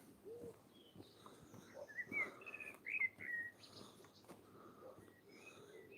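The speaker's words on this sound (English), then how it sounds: "The birds sound absolutely brilliant." Birds singing at Withernsea, East Yorkshire, scattered faint chirps and short whistled phrases from several birds over quiet outdoor background noise, soft and somewhat distant.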